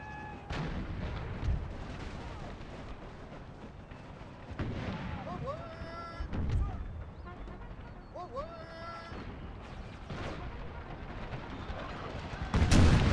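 Howitzer artillery fires repeatedly in Empire: Total War during a Civil War battle, loud booming blasts and crackling gunfire rolling through a busy battlefield din, with a heavy close blast at the end.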